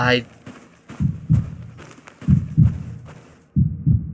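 Object media scan in the video game Lidar Exploration Program gives off a heartbeat-like sound, paired low thumps repeating three times at a slow, even pace, close and distinct.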